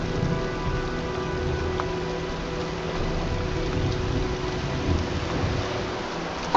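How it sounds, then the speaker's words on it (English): A heavy thunderstorm with rain, a steady dense rush of rainfall and a low rumble of thunder rolling continuously throughout, with no voices. "looks like a storm's coming"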